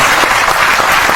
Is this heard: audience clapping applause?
yes